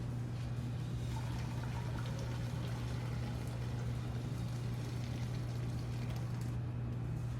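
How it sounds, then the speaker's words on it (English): Steady rush of water pouring continuously into a pot, with a constant low hum underneath throughout. "throw my water in."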